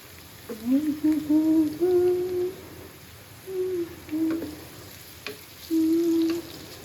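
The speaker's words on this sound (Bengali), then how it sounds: "সেটার ভিতরে দিয়ে দেবো পেঁয়াজ। পেঁয়াজ দিয়ে পেঁয়াজটা আগে একটু ভাজতে হবে।" Onions frying in oil left over from frying birista, a steady sizzle through the clip beneath several sustained hooting, hum-like tones and a couple of sharp clicks.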